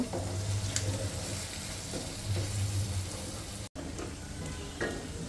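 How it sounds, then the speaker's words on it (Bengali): Onions sizzle in a pan ahead of a Peshawari chicken dish, a soft, continuous frying hiss with faint stirring and one brief dropout near the end. "পেঁয়াজটাকে ভেজে নিলাম"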